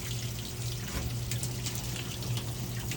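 Water drains out of a stainless steel reverse osmosis membrane housing, a faint continuous trickle and splash like a running tap, steady with a low hum beneath it.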